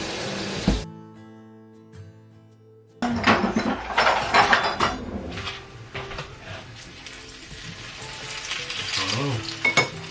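Pork chops fry in a pan with a steady sizzle and crackle, broken by clattering and scraping of cookware after a brief quiet moment, close by and without talk.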